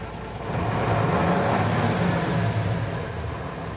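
ZIL 130 truck fitted with a Mercedes turbo engine, idling right after starting, a steady low rumble with a hissing layer, close and even, no talk.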